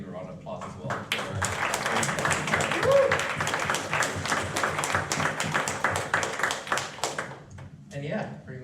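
An audience at a Python meetup in Melbourne gives a round of applause, dense clapping under and between talk from a speaker, fairly close and uneven, tapering near the end.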